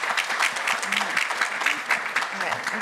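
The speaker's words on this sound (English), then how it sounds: "All the women in the room, please let us give a round of applause for everybody, and Katie as well" Audience applause fills a room at a women-led panel event on power and influence, steady dense clapping throughout at moderate loudness with no voices on top.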